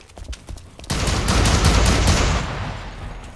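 Dense burst of automatic gunfire from a Blacklight Retribution closed beta match, erupting abruptly after a quiet second and sustaining loud, rattling volleys with scattered sharp shots over the remaining seconds.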